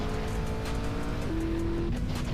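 A car driving in a GTA roleplay game, with a steady engine drone whose pitch shifts as it changes gear, loud and continuous, with a faint tire squeal.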